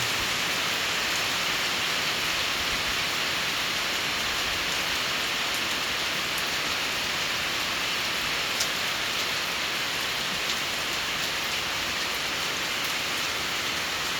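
Heavy rain pours down in Laos, a loud unbroken hiss of water striking surfaces that holds steady and even from start to finish, with no voices.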